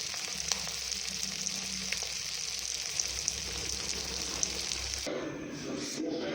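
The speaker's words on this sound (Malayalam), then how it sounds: "ഫ്രൈ ആയി വരുന്നുണ്ട്. നല്ല ടേസ്റ്റുള്ള മീനാണ് വാള." Vala ribbonfish frying in a pan gives off a steady, close crackling sizzle that runs on for about five seconds, then shifts abruptly to a rougher, lower spattering with some stirring at the end.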